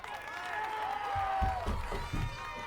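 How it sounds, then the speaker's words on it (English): A crowd cheers and shouts at a Ninja Warrior obstacle course during the Venice Beach qualifiers, a steady roar with louder swells and thumps near the end, and an announcer-like voice beneath it. "Pointing to the crowd going wild."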